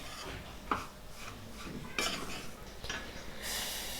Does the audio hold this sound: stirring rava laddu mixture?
yes